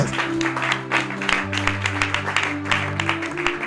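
A church congregation applauds and cheers during a Bible teaching, with steady hand clapping and a sustained tonal hum or held note underneath, with no clear speech.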